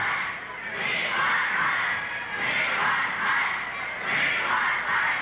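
A wrestling crowd at the Igor Volkoff versus Mike Hennessy match roars and shouts in a sustained, surging wall of voices that rises and falls in waves, loud and reverberant throughout.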